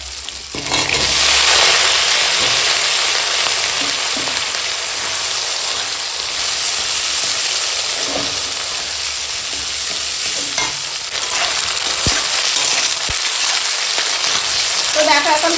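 Vegetables fried in a pan with ground cumin, pepper, coriander and ginger, a loud steady sizzle and crackle held for the whole stretch, with occasional clinks and scrapes of stirring and no talking.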